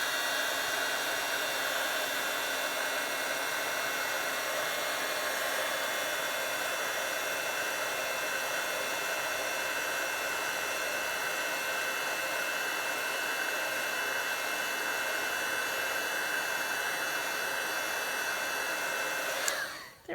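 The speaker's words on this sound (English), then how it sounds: "So I always tend to just grab my heat tool." A craft heat tool blows a steady, loud, even whoosh of hot air over an inked Christmas card for about twenty seconds, then switches off abruptly at the end.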